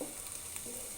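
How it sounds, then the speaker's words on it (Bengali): Onion frying lightly in a pan beside a pot of rice, a soft steady sizzle running evenly through the whole short moment with no voices. "আমার পেঁয়াজটা আমি হালকা করে ভেজে নিচ্ছি"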